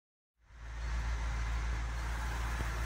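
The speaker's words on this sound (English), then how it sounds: "Have a bit of a Discovery driver going past there." A Land Rover Discovery passes, beginning after a short silence and swelling quickly into a loud, steady low road rumble with broadband tyre noise.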